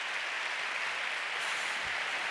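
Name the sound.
audience applause at a gala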